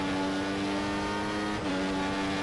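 A Formula 1 car engine from the F1 2014 racing game, running at full revs on the Barcelona circuit, drones as a loud, steady, high-pitched whine through the whole stretch with a brief dip near the end.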